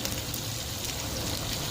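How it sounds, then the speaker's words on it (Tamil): Onions sautéing in a pan for a mushroom gravy, a steady close sizzle with a fine crackle throughout and no voices. "வெங்காயம் நல்லா வதங்கணும்,"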